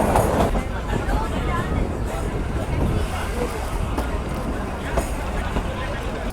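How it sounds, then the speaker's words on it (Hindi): The Kalka Shimla toy train rolls into a Himalayan halt, a steady rumbling clatter of the carriages with a low hum and faint creaks, while people talk around it. "तो अब हमारी ट्रेन पहुंची है अपने अगले हॉल्ट विच इज़ सलोगडा"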